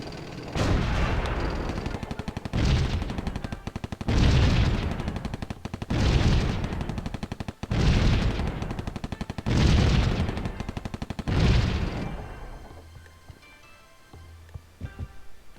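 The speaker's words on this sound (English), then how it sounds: "They are bombing the city." A city under bombardment in the strategy game Civilization III: six loud bursts of rapid explosive fire and booms, each lasting about a second and a half, in a steady rhythm, then fading to quiet at the end.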